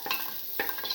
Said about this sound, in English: Put in the shallots, salt